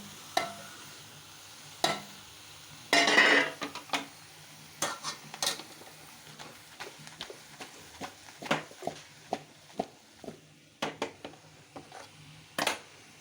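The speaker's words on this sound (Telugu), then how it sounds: "మళ్ళీ ఒకసారి కలిపి ఇప్పుడు తరిగి పెట్టుకున్న ములక్కాడ, దోసకాయ ముక్కలు వేయాలి." Pieces of drumstick and cucumber tossed into a pan for a curry and stirred, with a soft sizzle and a run of sharp, irregular scrapes and clinks of a spoon against the metal.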